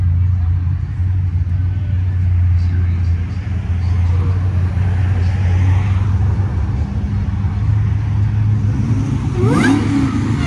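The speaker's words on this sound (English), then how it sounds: "There's more cars coming." Cars drive by with engines revving in an outdoor setting, a steady low engine rumble filling the whole stretch with a rising rev near the end, while people talk over it.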